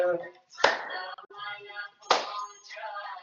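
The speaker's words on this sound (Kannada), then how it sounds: "ಚಪ್ಪಾಳೆ ಎಕ್ಯುಪ್ರೆಷರ್ ಆಗ್ಬೇಕು" During yoga, hands clap as acupressure, with two sharp, close claps about a second and a half apart amid chanting voices.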